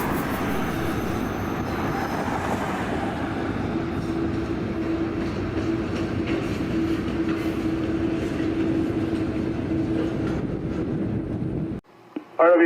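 A freight train of patched empty well cars and a new bathtub gondola rolls past close by, a loud continuous rumble with clacking wheels and a sustained squeal, cutting off abruptly near the end.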